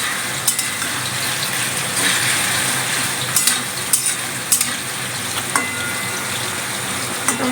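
Food frying and being stirred in a hot pan, a loud continuous sizzle close by, punctuated by sharp scraping clacks of a spatula against the pan at irregular intervals.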